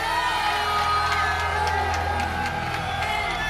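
A football crowd at a tournament final whoops, shouts and cheers at a loud, dense, steady level, with voices rising over the roar throughout.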